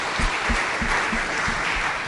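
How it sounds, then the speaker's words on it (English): A seated crowd at a book launch in Singapore claps for a speaker, a brief, steady round of applause with a few loud claps close by recurring at a regular rhythm. "Once again, a round of applause to him."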